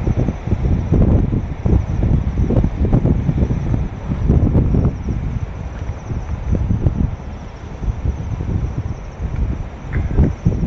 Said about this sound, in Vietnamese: Ở đây thì rất là gió với từ đó.